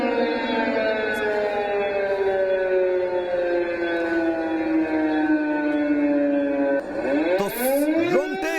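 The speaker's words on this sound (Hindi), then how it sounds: "सुनिए आवाज एक बार सबसे पहले सायरन की" A loud air raid siren in wartime Ukraine wails steadily, its tone slowly falling, then a second siren rises and warbles near the end.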